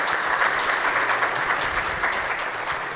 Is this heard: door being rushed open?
no